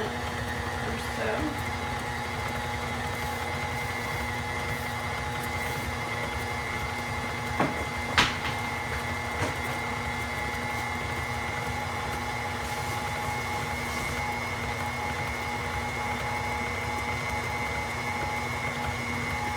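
An electric mixer whirs steadily while creaming chocolate chip cookie dough, a constant hum of moderate loudness with a couple of faint clicks partway through.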